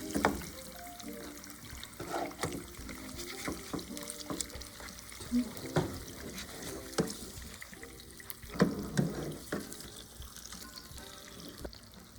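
An egg sizzles and crackles in a pan on low heat, with a steady frying hiss, a few louder spatters and clinks, and a voice speaking now and then.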